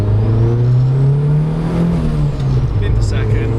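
A 500bhp Audi A3 fitted with a Monster Performance synchro gearset pulls away in first gear, heard from inside the car: a loud engine drone climbs steadily in pitch with a whirring transmission whine over a rumbling cabin.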